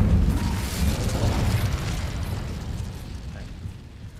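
An Incendio fire spell from Hogwarts Legacy bursts with a broad roaring whoosh that slowly fades over a few seconds, loud and close, with game sounds underneath.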